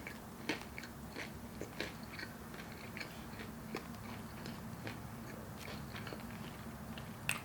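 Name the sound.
eating KFC Cheetos sandwich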